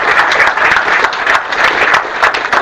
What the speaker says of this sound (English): I am requesting you to clap. Please clap.